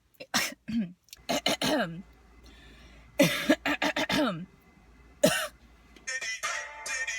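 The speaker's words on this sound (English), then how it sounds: "Listen to how many times she coughs during this video." A woman coughs in several sharp bursts and clears her throat repeatedly, close by, with short pauses between fits.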